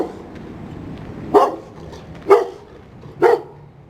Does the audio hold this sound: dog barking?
yes